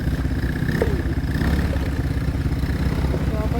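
A motorcycle engine runs steadily at close range, a low throbbing rumble that holds an even pitch, with faint voices underneath.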